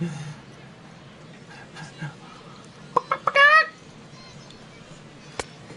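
A chicken clucking sound effect plays over the stadium speakers at a Chicago Cubs baseball game: a short, rapid run of clucks over crowd murmur and faint announcer talk.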